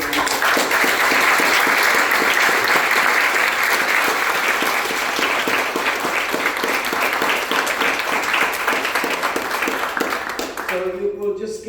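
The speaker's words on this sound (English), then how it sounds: "I want to invite everyone present to please give these students a wonderful round of applause" Loud, sustained applause from an audience at a mock trial championship, honoring student competitors, dense and steady for about ten seconds before tapering, with a voice starting to speak near the end.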